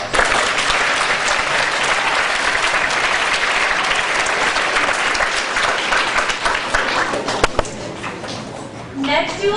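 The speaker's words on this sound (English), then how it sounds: "Can we please have another round of applause?" A school audience at a student council election applauds in a dense, steady wash of clapping that fills the whole stretch, with some voices mixed in and a faint speaking voice near the end.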